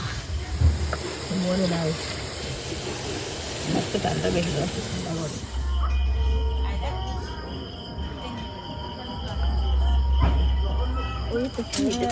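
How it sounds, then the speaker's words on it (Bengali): Suji jilapi, semolina sweets, sizzling in hot oil in a home kitchen, a steady broadband hiss that swells louder in the second half, with faint background voices. "এইভাবে সবগুলো আমি ভেজে নেব"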